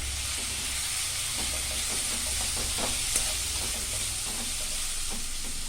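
Steady sizzling of garlic and ginger sautéing in a hot pan, with soft scraping and stirring clicks scattered throughout, no voices.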